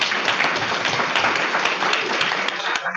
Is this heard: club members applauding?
yes